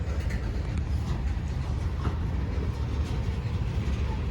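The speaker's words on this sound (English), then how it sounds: "now this train is finally gonna move" An Amtrak-station train starting to move at Depew rumbles with a steady low mechanical roar and faint clicks, close by and continuous, without any voices.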